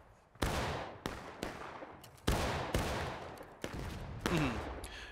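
Musket volleys in the Civil War game War of Rights: several loud, close gunshots at uneven intervals, each followed by a long, echoing, rumbling decay.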